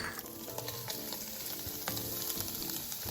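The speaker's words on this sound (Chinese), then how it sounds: "炉转中高火，与肉末一起稍微拌炒。" Minced pork stir-fried with shredded carrot and green papaya over medium-high heat, a loud continuous sizzle with scraping stirs throughout and no voices.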